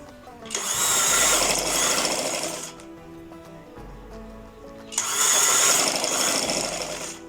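An electric sewing machine stitching the neckline of a suit or kameez: two loud bursts of fast mechanical whirring, each lasting a couple of seconds, separated by a quieter pause, heard up close.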